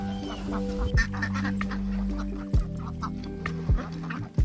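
A flock of ducks on muddy ground, with steady overlapping quacking and clucking throughout plus several louder honk-like calls near the start, middle and end, close and fairly loud.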